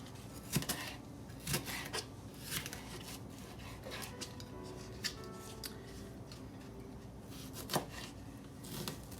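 A knife chops food into big, uneven chunks on a cutting board for a one-pot dinner, giving a series of quiet, irregular sharp chops at close range with no talk.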